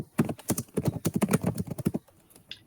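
Rapid typing on a computer keyboard, a dense run of crisp clicks for about two seconds that then stops, close and clear with no talk over it.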